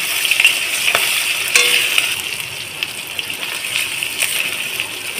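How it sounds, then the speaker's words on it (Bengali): Chopped green chilli and grated ginger frying in hot oil, a steady bright sizzle with a few soft stirring clicks, close and continuous throughout. "তারপরে দিয়ে দেব কিছুটা কাঁচা লঙ্কা কুচানো, তারপরে দেব আদা কোড়া।"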